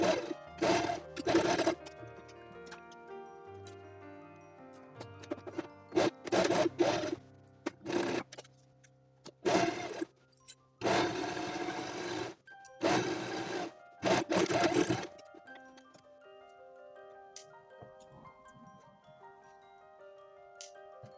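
Sewing machine stitching around a fabric book sleeve, in several separate bursts of rapid mechanical whirring with short pauses between, over quiet background music.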